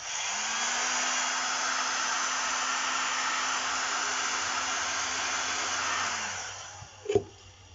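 A heat gun blowing a steady, loud whooshing hum across craft foam for a Warhammer bolt pistol build, running for about six seconds before switching off with a click.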